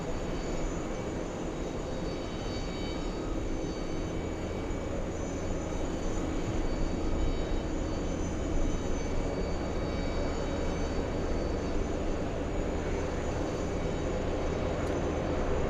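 Jet airliner engines at an airport rumble in a steady, fairly loud broadband roar with a faint whine, sustained and unbroken without any voices.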